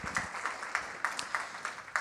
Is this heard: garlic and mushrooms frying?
no